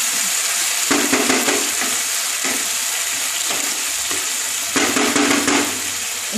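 Eggplant masala sizzling loudly in a pan after a little water goes in, a constant close crackle with several stronger scraping stirs of a spoon or spatula, and no one speaking.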